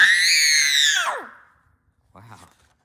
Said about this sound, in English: Wow, that's a good scream.